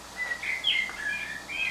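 A Eurasian blackbird sings in English bluebell woods, captured on an early tape recorder: a short run of clear, fluting whistled phrases, moderately close over a soft hiss of tape noise.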